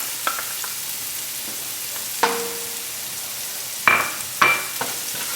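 Chopped onion and garlic sautéing in a pan make a soft, steady sizzle, with a few sharp clinks of a utensil stirring against the pan spaced through the clip.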